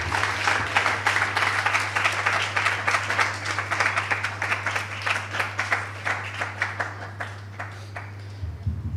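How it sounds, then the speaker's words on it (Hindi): An audience at an event applauds in sustained, dense clapping that gradually thins toward the end, heard close over a steady electrical hum. "तो मैं सभी से रिक्वेस्ट करूँ कि एक बार जोरदार तालियां ऑयल इंडिया कंपनी के लिए"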